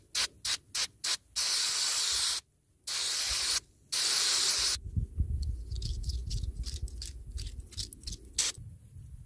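Brake cleaner is sprayed onto an old, greasy bearing from a classic tractor in short hissing bursts, then longer steady blasts. Softer rubbing and dripping noises follow.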